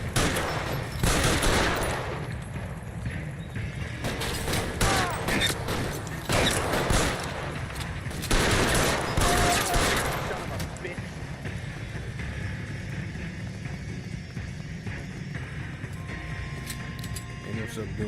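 Gunfire in the video game L.A. Noire during a shootout with a suspect, loud bursts of rapid shots in clusters over the first ten seconds, then fading to quieter ambience, with voices talking over it.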